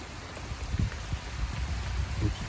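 Rain falls at a fishing lake, a faint, steady hiss of drops with soft scattered patters close by, no voices.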